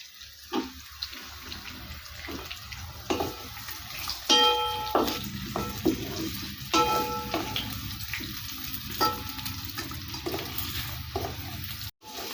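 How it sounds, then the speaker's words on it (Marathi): Shepu (dill) vadi fry in oil with garlic and coriander, a soft sizzle under scraping and clinking of a spoon stirring the pan, with intermittent metallic knocks. "हे चांगलं एकसारखं असं हलवून परतून घ्यायचं, चांगली वडी भाजेपर्यंत"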